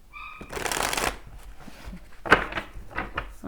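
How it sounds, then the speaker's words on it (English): A deck of tarot cards gets a hard riffle shuffle, a loud dense burst of flapping card noise followed by quieter taps and rustles as the deck is squared, close up. "We'll get a really good hard shuffle for my Sagittarius"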